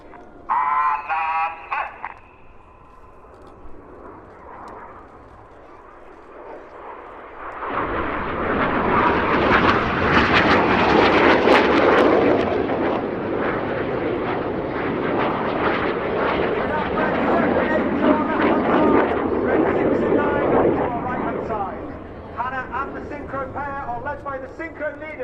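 Red Arrows BAE Hawk jets fly the Hannah break at RIAT, a loud surging jet roar that swells abruptly and holds for many seconds before easing, after a short stretch of quieter sound.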